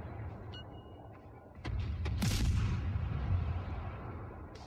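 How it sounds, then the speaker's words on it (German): Naval guns of the cruiser Algérie firing in World of Warships: a few distant cannon thumps, then a loud, booming salvo with rumbling aftermath lasting a couple of seconds. "Die Algerie schießt auf mich, hat sie aber verfehlt."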